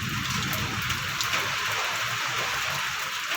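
Steady rain pours down continuously during a thunderstorm, a dense even hiss of drops hitting surfaces close by, with no voices over it.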